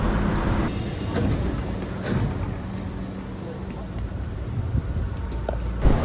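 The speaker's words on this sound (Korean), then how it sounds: "지하철 타고 가야지" Inside an Osaka subway train during a ride, a steady, loud rumble and rattle continues throughout, with occasional faint voices beneath it.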